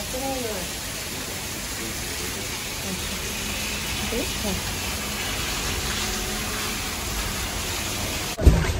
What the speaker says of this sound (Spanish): Vea la lluvia, está demasiado.